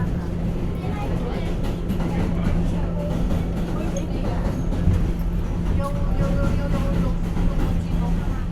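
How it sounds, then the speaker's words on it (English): R211 D subway car riding toward Coney Island, a steady loud rumble of wheels and motors with a constant low hum, heavy broadband noise throughout and faint tonal whines, no clear talk. "This is a Coney Island, Stillwell Avenue bound D train."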